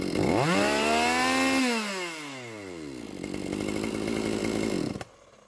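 A Hitachi CS45EM chainsaw, warm and started without choke, revs up loudly, then drops back to a rough, steady idle before cutting off abruptly near the end.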